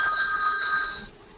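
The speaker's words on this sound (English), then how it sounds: "the phone's for you" A telephone rings once with a bright, electronic warbling tone lasting about a second, fairly loud and alone without talk.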